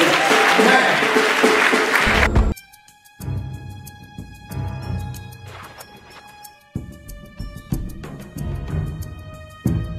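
A church congregation claps for Jesus at a healing service, loud dense applause for the first couple of seconds, then fading into lighter scattered clapping with sustained musical tones ringing underneath.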